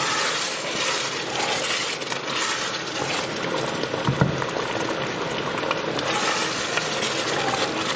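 A spiced chicken wing biriyani mixture is stirred in a pan, giving a steady sizzling, bubbling cooking noise with soft scraping from the stirring, continuous and close, with no talking.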